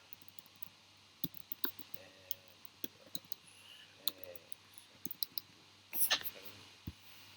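A computer mouse gives scattered, faint, quick clicks during website editing, some in pairs, over a quiet room tone with a muffled voice briefly in the background.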